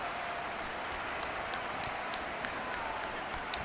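Crowd clapping in an American football video game, a steady wash of applause at low volume with crowd noise, the same from start to finish.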